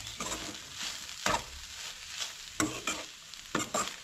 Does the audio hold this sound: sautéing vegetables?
yes